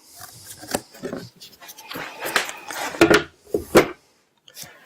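Small squares of cardboard cut by hand for mounting flexible wood-fibre insulation panels, heard as short crisp rasping cuts in uneven bursts, close, with a voice talking intermittently.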